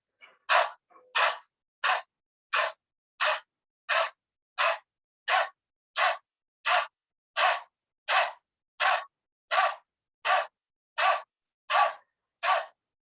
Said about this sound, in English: Okay, so this is called dog breathing.